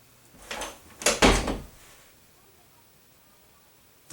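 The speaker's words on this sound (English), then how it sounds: "Today is the day we open the door." A door being opened, a short burst of wooden knocks and scraping around the first and second seconds, close by, then near silence.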